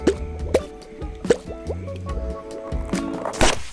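Animated animals submerging underwater in a game about a Jurassic beaver, heard as a quick series of close watery plops and drips with bubbling, gurgling tones, no voices.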